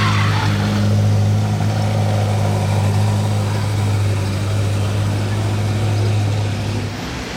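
An SFX6 Spider sports car pulls away on a Monaco street, its engine a loud, close, steady low rumble that holds for several seconds and then eases off slightly as it drives off.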